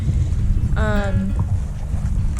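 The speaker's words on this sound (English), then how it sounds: "I'm excited for the wind to get a bit stronger." Wind blows steadily across the open sea around an ocean rowing boat, a constant low rushing buffet close to the microphone with a brief faint tonal whine partway through.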